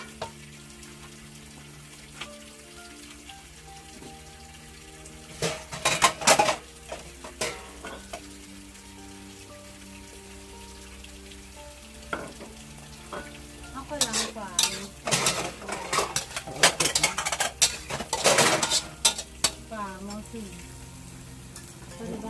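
Cucumber being stir-fried in a pan, a low sizzle broken by bursts of loud clattering spatula strokes against the metal, close up, with a faint voice now and then.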